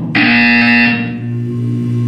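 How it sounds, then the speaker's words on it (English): Buzzer in the Portal 2 video game, a sudden loud, harsh electronic tone that blares steadily for about a second and then drops to a quieter lingering hum, with no talking. "You will hear a buzzer."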